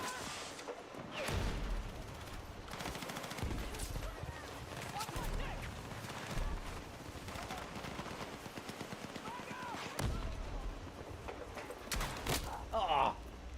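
Rapid automatic gunfire in Battlefield 6, dense bursts of shots running almost the whole time with loud peaks near the start and end, mixed with shouting voices.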